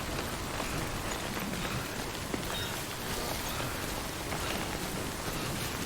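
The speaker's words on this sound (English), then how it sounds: "Some of that rain is starting to sound more like trees breaking up." Steady heavy rain pours in Death Stranding, a dense continuous hiss at even loudness with no talk over it.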